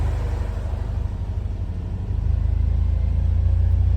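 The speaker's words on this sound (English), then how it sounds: "Car has been idling now for 2 or 3 minutes just on the low speed." A Porsche 944 engine idles with its radiator fan on low speed, giving a steady, close, low rumble with an even pulsing beat, alone and without voices.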